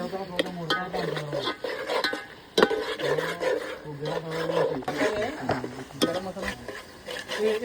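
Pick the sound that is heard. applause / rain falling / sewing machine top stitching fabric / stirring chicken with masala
stirring chicken with masala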